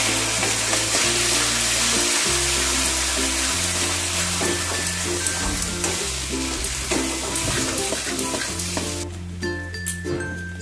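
Giant taro (mankochu) paste stirred in a frying pan with ground mustard and coconut paste, giving a steady sizzle and scraping that runs continuously under prominent tonal background music.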